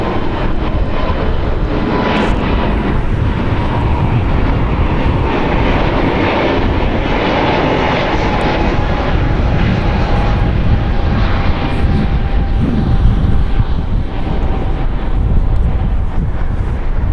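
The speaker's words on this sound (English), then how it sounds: "Spirit Airlines Flight 266 going to Philadelphia. It's an Airbus A320 Neo" A one-year-old Spirit Airlines Airbus A320neo departs LAX for Philadelphia, its engines producing a loud, sustained roar with a thin whine, buffeted by wind across the microphone.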